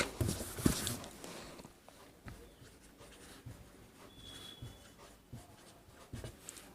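A pen scratches out notes during a lesson on matrix rank, soft uneven strokes and taps, close and quiet, with no speech.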